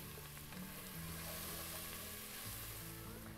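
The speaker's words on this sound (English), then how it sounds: "Once I've done that, I'll add it to the onions. And give this one more stir." Squash and onions cooking in a pot give off a soft, steady sizzle, with faint stirring scrapes beneath a low background hum.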